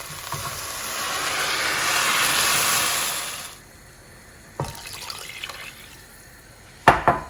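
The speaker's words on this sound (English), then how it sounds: "And next I'm going to add 1 liter of water," Tap water rushes steadily into a cooking pot for a few seconds, then stops, followed by a couple of sharp clunks and knocks.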